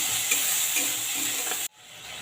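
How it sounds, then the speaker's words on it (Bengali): Ginger, onion and garlic paste with whole spices such as cinnamon fries in a pan, giving a steady close sizzle with stirring scrapes for most of the clip before it cuts to quieter room tone. "যতক্ষণ না কাঁচা গন্ধটা যাচ্ছে ততক্ষণ আমি ভেজে নেবো আদা রসুন পেঁয়াজে।"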